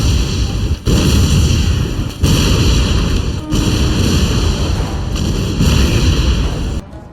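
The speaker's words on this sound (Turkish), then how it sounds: "Sultanın emriyle kuşatma, 3 taraftan yoğun top atışlarıyla başladı." Heavy cannon fire from a siege bombardment pounds on in a dense, continuous roar of booming blasts, loud and close. A few brief gaps break the barrage, and no voices are heard.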